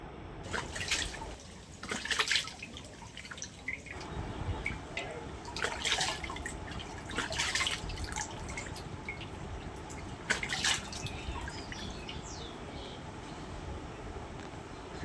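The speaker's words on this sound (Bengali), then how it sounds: "আর দেখো এবার মুখটা ধুয়ে নিচ্ছি যেহেতু সাবান মাখানো কমপ্লিট" Water splashes in repeated bursts as a face is rinsed after soaping, with drips and a running tap between the splashes, close and fairly quiet.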